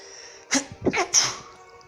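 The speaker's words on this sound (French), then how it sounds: "Excusez-moi, j'ai éternué." A single person's sneeze, a sharp breathy burst with a brief intake and a strong exhale, heard close and alone in a quiet room.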